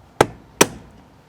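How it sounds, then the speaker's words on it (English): Two sharp, loud hammer strikes on metal about half a second apart, punching a hole in a Land Rover Defender 110, each with a short ringing decay, with quiet in between. "That hole there, a whack with a hammer"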